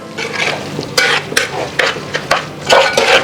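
A spoon stirring aviyal in a pot after coconut oil is added, a series of repeated scraping and squelching strokes, close and loud, in an uneven rhythm with no talking.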